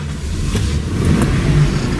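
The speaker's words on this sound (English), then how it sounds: "it's the sound of that big block coming to life and running very, very smoothly" A 1969 Lincoln Continental Mark III big block V8 turning over and catching, settling into a steady, smooth low rumble close by, with no talk over it.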